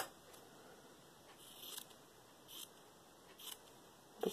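Scissors cutting a piece of card for a journal tag: a few quiet, close snips spaced a second or so apart over a faint steady hum, with no talking.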